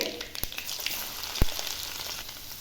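Garlic cloves fry in oil as the tempering for raw mango pulihora, a steady close crackle with two sharp pops.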